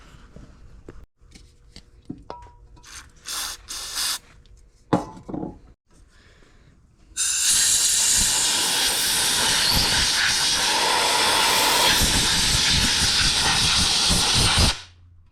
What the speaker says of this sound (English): Let's spray this out with some brake clean